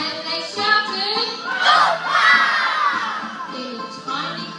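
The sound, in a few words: children shouting during a school dance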